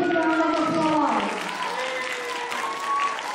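Audience applause at a community cultural day performance on Long Island, clapping mixed with a voice over an amplified system, loud at first, then settling to a softer, even level.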